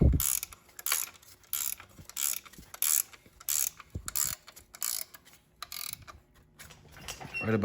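A ratchet clicks rapidly in short repeated bursts as it cinches down a bolt on an Audi 2.0T engine being prepped for install, close and crisp, with brief pauses between strokes.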